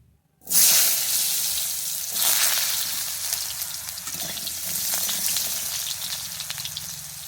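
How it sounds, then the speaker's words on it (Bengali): Sliced potato hits hot oil left over from frying fish eggs and bursts into a loud, steady sizzle that swells again a couple of times as pieces settle and get moved around. "আলুটাকে আমি ভেজে নিচ্ছি"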